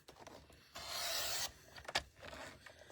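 A paper trimmer blade slices through two stacked 12 x 12 inch sheets of paper in one steady, rasping stroke lasting under a second, fairly close and quiet, followed by a few softer handling scrapes.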